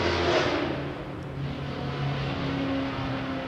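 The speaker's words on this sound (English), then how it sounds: "That was a nice sounding car, huh, guys?" A car with a strong exhaust note passes nearby, its broadband roar loud at first and then fading to a steady lower hum as it moves away.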